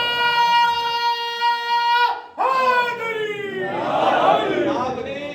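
At a majlis, a single voice holds a long, drawn-out call, then a crowd answers with a loud religious chant that swells into a broad collective roar.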